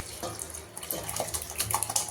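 Water splashes and trickles as it is poured into sambar cooking in a pot, a short, close, fairly loud burst with no talk.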